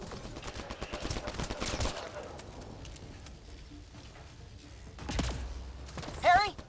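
Sustained bursts of sci-fi gunfire crackle in the Mass Effect Andromeda video game, a rapid fusillade that fades and then returns in a sharp burst, followed by a brief voice.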